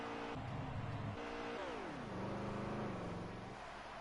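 Race cars lapping at Dover in an outlaw series event, a loud continuous engine drone with pitch sweeping down and settling as the cars pass, no voices.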